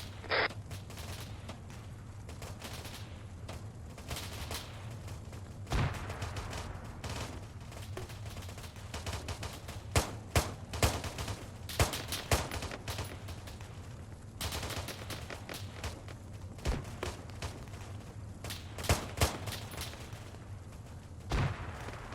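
Gunfire crackles through the military shooter Arma 3 in a long exchange, with scattered single shots and bursts at varying distances over a constant low rumble, and no talking.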